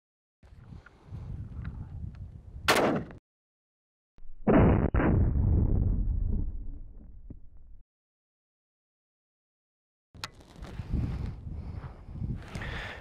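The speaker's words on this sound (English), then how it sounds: "Okay, Jacob, we're gonna put one shot onto the armor. with their rifle round" A 7.62x39 rifle round fired at helicopter cockpit armor outdoors: a sharp, loud crack followed by a rumbling report and echo, set between stretches of wind noise and handling sounds.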